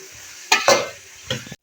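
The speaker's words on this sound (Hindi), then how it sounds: "इनको भी हम प्याज के साथ और लहसुन अदरक के पेस्ट के साथ हम थोड़ा सा फ्राई कर लेते हैं।" Black chickpeas frying with onion and ginger-garlic paste sizzle under a few sharp stirring scrapes from a utensil, brief and close, with no speech.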